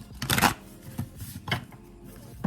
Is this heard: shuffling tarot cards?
yes